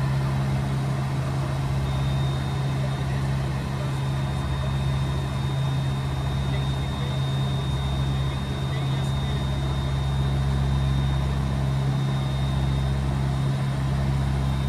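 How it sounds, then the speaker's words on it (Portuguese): Tecnam P2006T twin-engine light airplane in cruise with one of its two engines throttled back, a steady loud droning hum with strong low tones, continuous and unbroken throughout. "Experimentamos voar com um dos motores reduzido."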